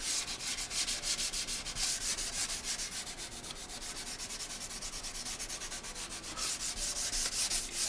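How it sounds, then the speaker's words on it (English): Painted fuel tank of a 1972 Honda CB175 rubbed down with 1000 grit sandpaper: steady, close back-and-forth scratchy strokes in an even rhythm, with no voices. "the 1000 grit paper will get this all straightened out"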